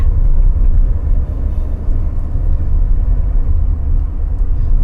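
A Mercedes-Benz W124 220E drives with its engine running, heard from inside as a loud, steady low rumble with road noise and no talking.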